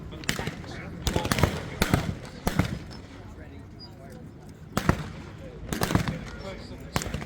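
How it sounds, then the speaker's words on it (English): Trench mortar rounds thud and crack at a Tankfest tank battle reenactment, a series of sharp, fairly distant explosions in irregular clusters over steady outdoor background, with someone talking throughout. "There's the old trench mortar dropping in"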